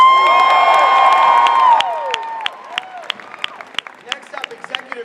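A Comic-Con 2015 panel audience for the Arrow TV show bursts into loud, dense applause and cheering with whoops, which thins after a couple of seconds into scattered claps and shouts.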